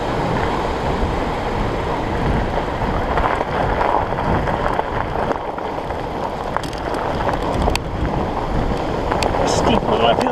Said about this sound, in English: You can hear the current river raging there.